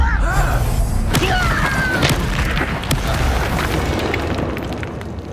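In Hogwarts Legacy, a Confringo fire spell blasts through combat as a dense, loud rumbling explosion that fills the scene, with a rolling roar and scattered crackles that slowly fade toward the end.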